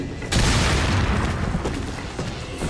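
A rocket launcher blast hitting the player in a Resident Evil game: one loud, deep boom that lands abruptly and rumbles on, with a voice speaking over the tail.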